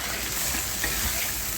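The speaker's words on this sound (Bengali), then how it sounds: "কষাতে লাগিয়ে আমি সুন্দর করে কষাবো।" Mustard and green chili paste frying with softened, salted tomatoes in a pan, a steady close sizzle with faint stirring scrapes throughout, no voices.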